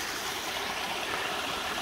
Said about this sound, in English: this is going to be Bwana's drinking faucet right here.